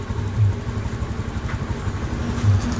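A Honda Scoopy automatic scooter, third-generation type with a leaking idle screw rubber, idles steadily with a low, even engine throb close by, no talk over it.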